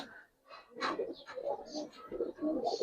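Young Giribaz pigeons coo softly in a few low, throaty phrases, faint and close, with some quiet voices in the background.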